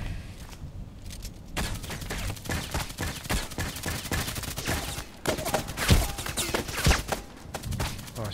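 Rapid gunfire in a video game as an enemy shoots through walls: dense bursts of shots crack along steadily, loud and close, with several sharper reports mixed in.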